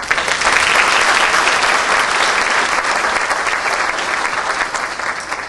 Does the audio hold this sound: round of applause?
yes